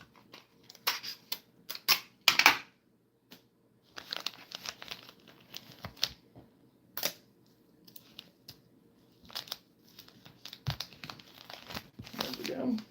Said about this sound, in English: I'm gonna have to tape it again.